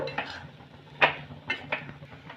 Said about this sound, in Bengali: খুব ভালো করে আমি আলুর সাথে মিশিয়ে নেব